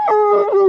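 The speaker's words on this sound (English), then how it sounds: "There's a dog barking." A dog howls and whines in a drawn-out, tonal cry, close and fairly loud, during a stop at a Ford dealership EV charger on a road trip in a Volvo XC40 Recharge.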